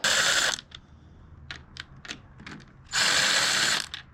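Ratchet wrench backing out bolts from a Jeep JKU NAG1 transmission casing, two loud bursts of rapid clicking separated by scattered softer ticks and metallic taps.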